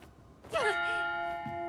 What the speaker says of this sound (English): we got a little tiny bell, a bigger bell, a huge bell